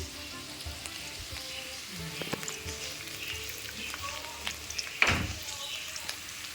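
Ingredients for coconut rice sizzle in hot oil over a high flame, a soft steady crackle with scattered pops and stirring clinks, one sharper scrape near the end, fairly close and moderately quiet.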